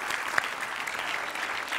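Audience applause at a televised stand-up comedy show, a steady wash of many hands clapping close and loud for the full stretch, with no voices over it.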